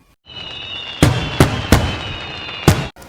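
Four sharp Diwali firecracker bangs go off in an irregular sequence, each a loud crack over a steady high-pitched whine.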